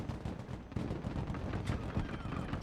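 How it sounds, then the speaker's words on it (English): Dense, overlapping blasts from 40mm grenades in the Broken Arrow military strategy game rumble and crackle continuously, loud and close, with no pauses between impacts. "Just all the explosions from all the 40mm grenades."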